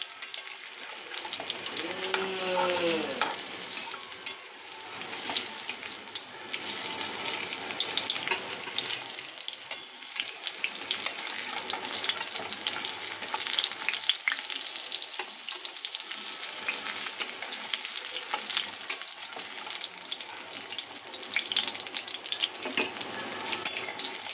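Banana flower (mocha) chops in gram flour batter frying in hot oil in a home kitchen, a dense continuous sizzle with occasional bubbling crackles and a brief clatter, close and steady throughout, no talk.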